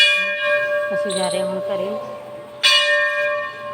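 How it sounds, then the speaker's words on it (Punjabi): Ringing bells at a Shiva temple sustain a bright metallic tone, with a fresh strike near the end while a person speaks over them. "ਮੰਦਰ ਦੀਆਂ ਘੰਟੀਆਂ ਪੋਜ਼ਿਟਿਵ ਤੁਸੀਂ ਵੀ ਸੁਣੋ"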